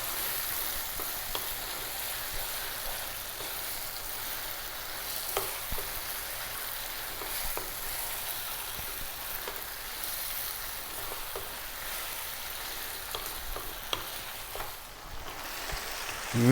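Tomato paste frying in a pot of garlic chicken tomato stew, a steady close sizzle with soft scraping clicks of stirring at intervals and no talk.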